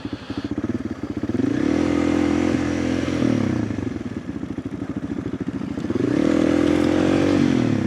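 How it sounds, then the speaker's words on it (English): Mini bikes ride a dirt trail, their small engines buzzing steadily and swelling louder as they pass close, with rising revs near the middle and again toward the end, plus some clatter from the rough ground. "I see a little kid, little people on mini bikes"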